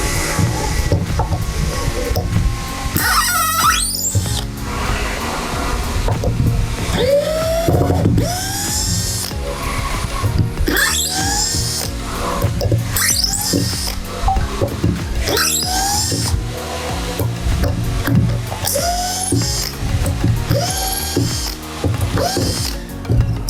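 A 12V SCH10D2K cordless hammer drill runs in reverse to loosen bolts, its motor whirring in repeated bursts with ratcheting clicks and pitch sweeps as each bolt breaks free, loud and close.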